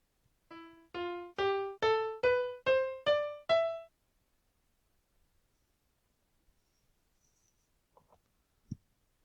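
Seven separate notes climb step by step in an E Phrygian scale, each a clear, rich, sustained tone with a short gap before the next. After that come near silence and a few faint clicks.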